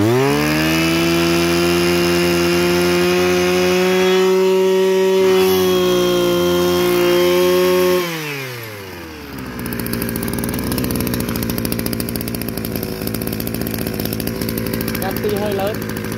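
An Echo 315 chainsaw engine runs at a loud, high rev, then drops sharply to a rougher, lower idle that keeps chugging close by.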